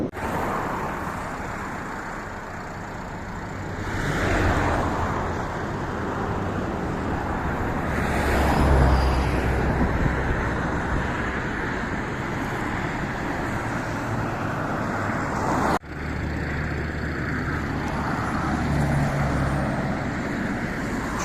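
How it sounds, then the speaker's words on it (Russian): Road traffic on the highway to Domodedovo airport in the Moscow region, a steady roadside roar of passing cars and trucks that swells and fades as vehicles go by, with a brief sharp bump near the end. "Это трасса на аэропорт Домодедово."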